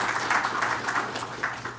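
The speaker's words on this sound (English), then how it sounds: "give her an applause" Audience applause for a keynote speaker at a neuroscience talk, a steady, moderately loud patter of many hands clapping throughout with no break.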